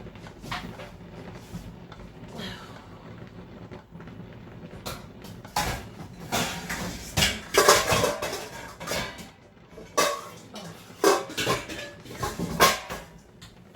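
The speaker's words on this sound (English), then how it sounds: "that was me getting the colander out" Metal pots, pans and a colander clatter and clank as the colander is pulled out in a home kitchen while making mac and cheese, in irregular bursts of knocks and scrapes with no talking.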